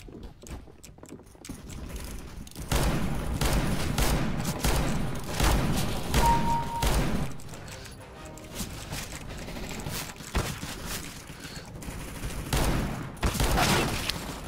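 Rapid gunfire rattles through a CS GO match, with dense volleys and shot bursts running almost continuously at close range.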